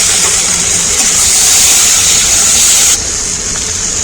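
Tomatoes hitting a hot pan of fried garlic and onion for arhar dal, a loud steady hiss of sizzling that drops off abruptly partway through.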